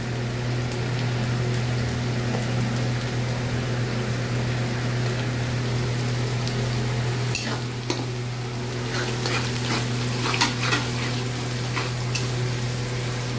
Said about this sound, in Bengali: গাজর জিনিসগুলো ভেজে নেওয়া হচ্ছে।